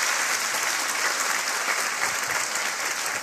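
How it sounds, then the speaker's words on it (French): Studio audience on a French TV cooking show breaks into steady, dense applause, loud and close, filling the whole moment with no talk over it. "Félicitations, on vous applaudit tous les deux."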